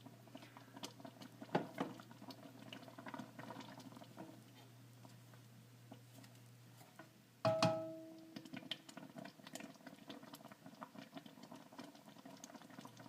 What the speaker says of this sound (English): go ahead and let it come back up to a boil.